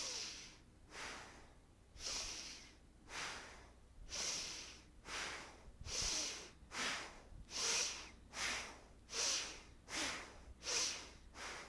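Rhythmic yoga breathing with alternating inhales and exhales, soft breathy rushes repeating roughly every second, close and quiet, with no speech.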